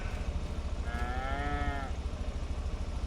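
A single cow moos once in a cattle pen on a farm, a drawn-out lowing call near the middle, over a steady low background rumble.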